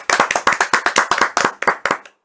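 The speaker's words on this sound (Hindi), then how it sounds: "ताली।" A quick run of sharp hand claps, about a dozen in steady rhythm, loud and close, slowing at the end, during a momo and chicken chowmein eating challenge with a bottle flip game.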